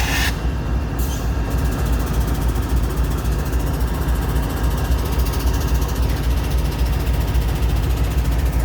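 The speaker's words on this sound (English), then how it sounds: "here comes the other train" An Atlantic Coast Line heritage-unit diesel locomotive approaches with a loud, steady low engine rumble that holds unbroken throughout, with no voices.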